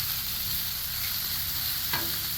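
Food sautéing on a Blackstone flat-top griddle with no oil added, a steady broadband sizzle running throughout with a brief scrape or stir near the end.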